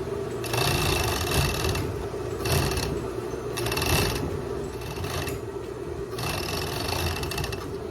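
A sewing machine runs steadily through three layers of fabric stitched together for a raglan jumpsuit, its whirring motor and clattering needle mechanism loud and close, in several bursts with short slowdowns between them.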